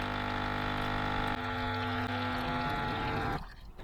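A L'OR Barista Sublime Compact coffee machine, being cleared of an airlock, hums and buzzes steadily as its pump pushes water, a dense tonal drone that shifts pitch partway through and then cuts off near the end.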